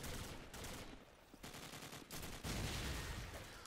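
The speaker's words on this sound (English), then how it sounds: "Sir, could you please stop shooting for a minute?" Gunfire in a video game, a dense rattling of rapid shots in bursts that stop briefly and start again, fairly loud throughout.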